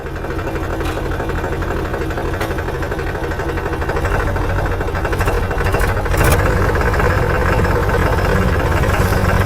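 Tractor engine running steadily after backing up, a loud continuous mid-low diesel rumble that swells slightly partway through, with no voices over it.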